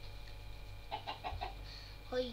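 A Minecraft chicken clucks in a short run of four quick notes, then one more a moment later, faint over a steady game background hum.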